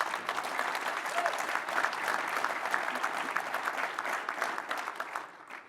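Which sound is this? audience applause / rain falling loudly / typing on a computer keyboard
audience applause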